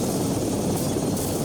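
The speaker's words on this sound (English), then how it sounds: "take out those choppers" Helicopters in a video game battle, a loud, close, steady rotor thrum that fills the whole moment without speech.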